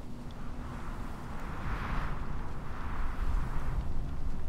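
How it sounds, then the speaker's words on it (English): Rumbling explosions and heavy combat impacts in the Shadow of Mordor video game, a dense continuous roar with bursts swelling midway, loud and sustained without speech. "Explosions and combat finishers."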